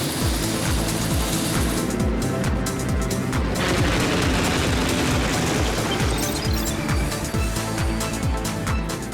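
A cartoon Helijet aircraft roars loudly and continuously, with a dense rhythmic rotor-like chopping and rumbling, thick and close throughout, no voices.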